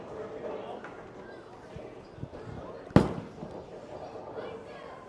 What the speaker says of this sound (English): let's just throw a really good shot and let the pins lay where they might.